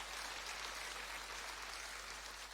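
An audience at a church sermon on family claps continuously, a dense, even wash of applause heard at a distance and fairly faint, without distinct individual claps standing out.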